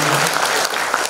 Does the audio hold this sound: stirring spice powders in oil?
no